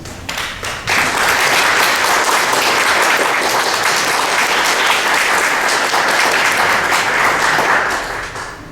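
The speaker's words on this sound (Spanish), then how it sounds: "le vamos a pedir a los presentes que el día de hoy recibamos con un fuerte aplauso" Audience applause welcoming a lecturer at a historical archive conference, loud dense clapping from a large crowd sustained for several seconds, then fading slightly.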